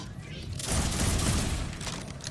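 A kinetic gun firing in Borderlands, a sustained burst of rapid shots and booms that starts abruptly and fades after about a second, loud and close, with some talk mixed in.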